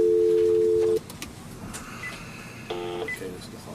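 A steady telephone keypad tone sounds loudly for about a second, followed by a quieter background bustle and another brief dual tone later while someone dials out from an office phone.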